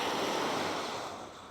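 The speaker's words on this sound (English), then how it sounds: "sound of the waves." Ocean waves washing onto the beach at MSC Ocean Cay, a steady broadband rush of surf with some wind, close and loud, slowly easing off, with no voices.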